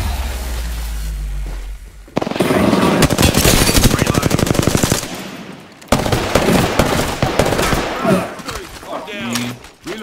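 Rapid video game gunfire, a dense burst of quick repeated shots lasting a few seconds, then another loud stretch of shots and impacts, with someone talking over parts of it.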